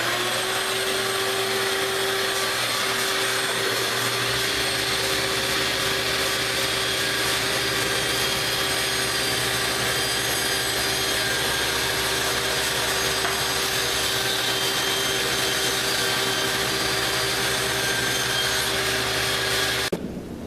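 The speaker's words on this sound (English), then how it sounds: "Now I'm actually going to go ahead and rip all the walnut pieces to their final width." A power saw rips walnut boards to width, running as a loud, steady whine with a constant hum for about twenty seconds before cutting off abruptly at the end.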